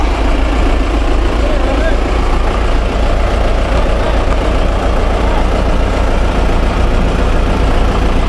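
A Massey Ferguson MF5710 tractor with a 102 hp four-cylinder turbo engine idles in a loud, steady, low rumble, with someone talking over it.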